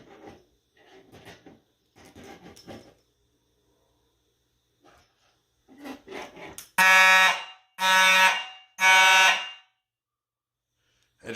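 A Simplex electromechanical horn strobe (model 4903-9215, 30 candela, free run) blares three loud, evenly spaced honks after some quiet handling noises and room sounds.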